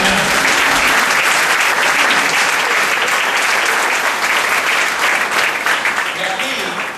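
A church congregation breaks into loud, dense applause at a Sunday morning service, a thick wash of clapping that fills the room and tapers slightly toward the end.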